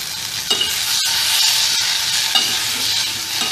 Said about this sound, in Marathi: मी शिजलेली डाळ टाकणार आहे.